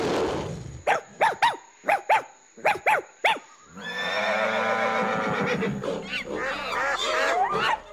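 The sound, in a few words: dogs barking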